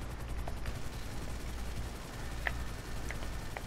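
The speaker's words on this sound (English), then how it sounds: "Shooting everyone in the city." Helicopter guns fire in Grand Theft Auto, with scattered sharp cracks over a constant loud whirring drone that runs all the way through.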